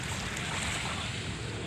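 Waves washing along the edge of Dolomite Beach in Manila, a steady broadband wash of gentle surf mixed with wind buffeting the microphone, continuous and fairly close with no talking.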